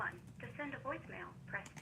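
An incoming call rings on a phone: a short, mid-level ringtone lasting under two seconds, with a faint voice-like texture running through it.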